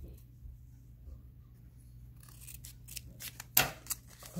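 Scissors snip through folded paper in a few quick, close cuts, faint and sparse in a quiet room with no talking.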